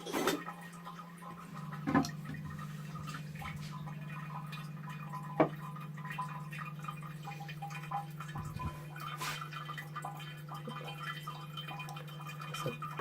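Water leaks steadily from a faulty flush mechanism into a toilet bowl, a faint continuous trickle under a low hum, with a few soft drips and knocks.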